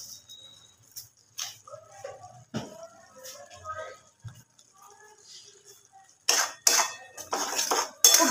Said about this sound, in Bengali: খুব ভালো করে মশলাটাকে কষিয়ে নেব